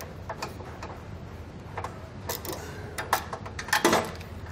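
A ratchet with an 11/16 socket clicks in quick bursts while loosening bumper nuts on a 2020 Jeep Wrangler, close up over a low steady hum, with a few louder metallic knocks and no talking.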